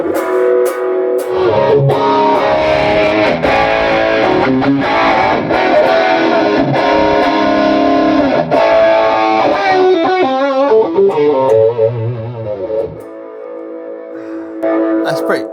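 A loud, heavily distorted electric guitar plays chords and sustained notes through an amplifier in a Grossmann SG-Box isolation cabinet with the lid open, ringing out and fading near the end.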